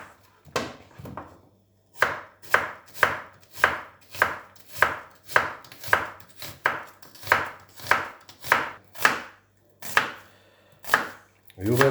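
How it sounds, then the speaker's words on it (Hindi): Onions chopped with a knife on a board, a steady run of about twenty sharp, close thuds at a brisk, even rhythm with short pauses, loud and alone without talk. "व्यूवर्स, आप देख सकते हैं कि प्याज हमने काट लिया है।"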